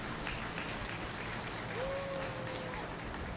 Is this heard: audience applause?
yes